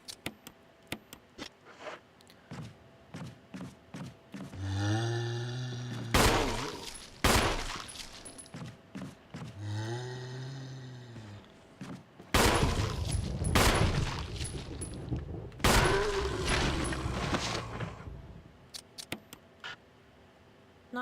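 Gunfire in the video game Resident Evil Remaster: scattered clicks and ticks, then several loud bursts of shots and reverberant impacts, with pauses between them and tonal swelling effects in the background.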